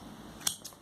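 Scissors snip through crochet yarn with two quick, close cuts in rapid succession.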